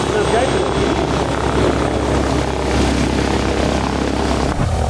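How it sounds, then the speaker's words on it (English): A small airplane's propeller engine drones steadily and loudly throughout, with broadband rumble and no break, heard at an airfield before a rental flight. "That is a little noisy, but hopefully that airplane gets out of the way."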